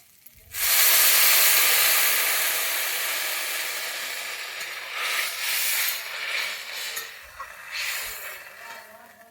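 Water poured into a hot pan of mourola fish curry with potatoes bursts into a loud, sharp sizzle, then settles into a long hiss that slowly fades with small flare-ups.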